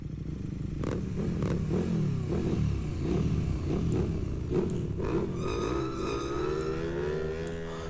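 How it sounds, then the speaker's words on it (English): A motorbike revving effect layered into an R&B music mix, engine pitch rising and falling across several throttle blips under the beat, with a longer climbing rev near the end. "some kind of bike sound. I like this."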